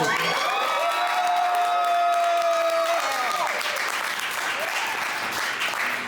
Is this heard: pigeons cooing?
no